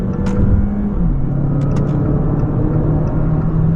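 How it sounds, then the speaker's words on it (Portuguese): A 2024 Jeep Renegade Sport at full throttle gives a steady, loud engine drone that holds a constant pitch from inside the cabin, with a few brief clicks and no talk. "Vou segurar aqui no freio, vou acelerar tudo e bora."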